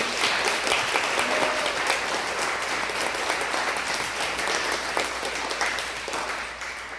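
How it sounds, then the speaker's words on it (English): An audience applauds youth poets at a poetry program in Phoenix, a dense, steady round of clapping that holds for several seconds and tapers slightly at the end. "Can we give them all one more round of applause?"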